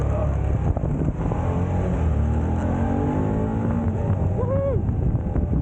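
A motorcycle engine runs and revs steadily through New York City traffic, a loud continuous drone with wind rushing over the microphone and a brief rising pitch near the end.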